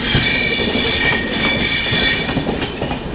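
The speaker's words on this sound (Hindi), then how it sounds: "ये लो, ये निकल रही है अभी बगल से महानगरी एक्सप्रेस।" The Mahanagari Express passes on the adjacent track beside a slow-moving Bundelkhand Express, a loud, steady rumble of wheels on rails with high metallic squealing and faint rhythmic clatter throughout, no voices.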